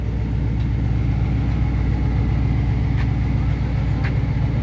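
A 1978 Chevy C10 short-bed truck idling with turn-down exhausts, a steady, moderately loud low rumble that stays even and close throughout, with no voices.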